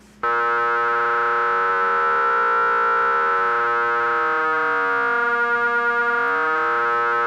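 A sustained tone from a Korg Minilogue synthesizer that bends smoothly up and down in pitch under modulation, swelling and dipping like a siren, with no voices.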